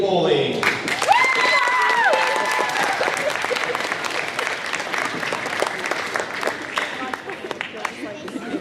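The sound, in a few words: applause for citizenship award winners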